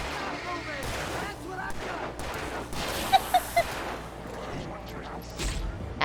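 Gunfire in the video game Alan Wake Remastered crackles in a dense burst of shots layered over rumbling game noise and music, with a few sharper cracks standing out near the middle.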